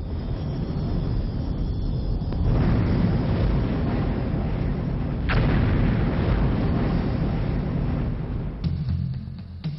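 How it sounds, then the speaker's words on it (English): A volcanic mountain exploding under pressure, a loud sustained roaring rumble with deep low booms swelling twice, dense and continuous with no voices. "Magnificent mountains explode as a result of the volcanic pressure beneath them."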